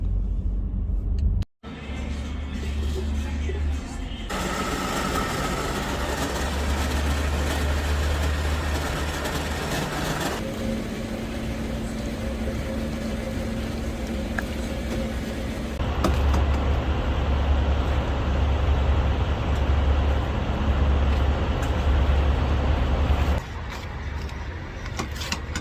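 Car driving along a snowy road in upstate New York, a steady low rumble of engine and tire noise heard from inside the cabin, with a brief dropout near the start and no talk.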